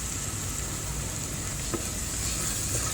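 Ginger garlic paste frying in hot oil with onions, with fish frying alongside in the same pan, gives a steady, close, even sizzle throughout with no talking.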